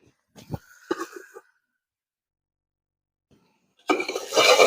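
A lid is set on a cooking pot of Bengali pui greens with kachki fish: a few short, close clanks and rattles, then quiet, then a louder rushing sizzle.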